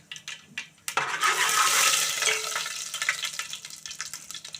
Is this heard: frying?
yes